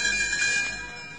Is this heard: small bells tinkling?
yes